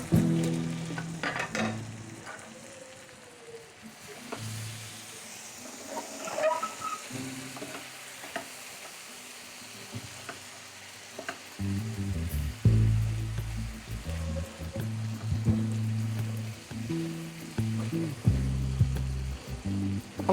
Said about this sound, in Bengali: এটা প্যানে রান্না করছি